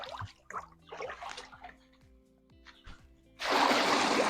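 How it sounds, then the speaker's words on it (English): Dye liquid poured by hand during batik making, a sudden sustained splashing pour near the end after quieter handling sounds and faint background noise. "I want to pour dye."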